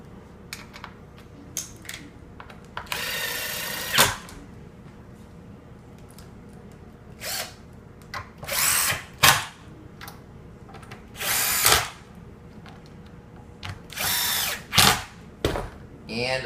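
Power drill driving screws into pre-drilled holes in a wall-mounted piece, several short bursts of whirring spread through the quiet clip, close and fairly loud, no talk over them.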